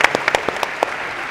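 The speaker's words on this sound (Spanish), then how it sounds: "despedimos al panel con un muy fuerte aplauso" Brief applause sends off a panel at a national lawyers' congress, a short burst of separate claps in an irregular rhythm that quickly fades into room tone.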